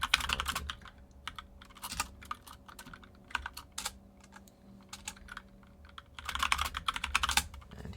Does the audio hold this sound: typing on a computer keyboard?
yes